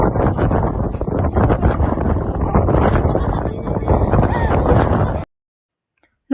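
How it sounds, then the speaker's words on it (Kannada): Strong wind near a temple pond buffets the microphone in loud, continuous gusts for about five seconds, then cuts off abruptly into near silence. "ನಾನು ಮಾತಾಡ್ತಿರೋದು ಕೇಳಿಸ್ತಾ ಇಲ್ಲ, ಅಷ್ಟು ಗಾಳಿ ಬರ್ತಾ ಇದೆ ಇಲ್ಲಿ"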